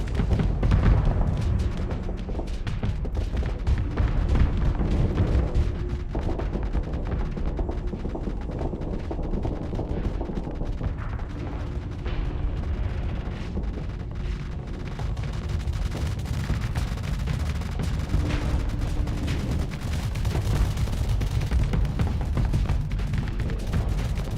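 Ship weapons fire nonstop in the space combat game Starsector 0.98a, flown on an Anubis: a dense, loud barrage of booming shots over a low rumble, with no speech.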